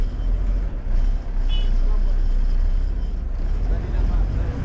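A Chennai MTC city bus, route 202 from Avadi to Tambaram, rumbles loudly and steadily from inside the cabin, its engine drone continuous with a brief dip in level as it slows.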